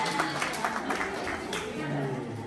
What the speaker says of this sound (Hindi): जोरदार तालियां ब्लेस के लिए।